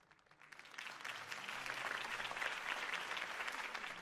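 Crowd applause in a Batman video game swells from a quiet start into steady, dense clapping that holds through to the end, with no voices over it.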